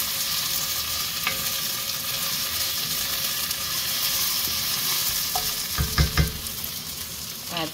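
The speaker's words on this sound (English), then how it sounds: "An onion, garlic, cumin. Nicely browning in oil." Onion, garlic and cumin fry in oil with a continuous moderate sizzle, joined near the end by a few clattering stirs and utensil knocks close by; nobody speaks.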